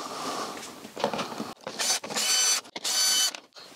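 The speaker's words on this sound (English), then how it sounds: "So let's get this side panel off." A side panel is pried off a BMW R1250GS HP motorcycle, giving a run of plastic creaks, clicks and scraping bursts separated by short pauses, close and fairly loud.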